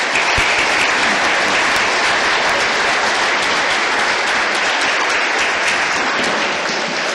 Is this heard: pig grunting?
no